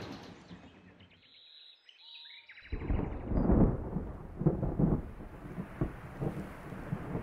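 Thunder from a lightning storm in a cartoon: after a high, tonal sound effect and a moment of silence, a loud, deep rumbling roll of thunder breaks out and rolls on with rain and wind.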